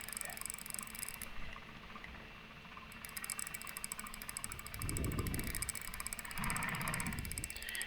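A boat engine in the fishing game Russian Fishing 4 runs as a steady low drone with a fast rhythmic patter, swelling briefly louder twice toward the end.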